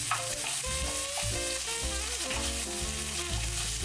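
Minced garlic frying in melted butter in a pan over high heat, a constant crackling sizzle with stirring, close up and loud, with soft background music and no talking.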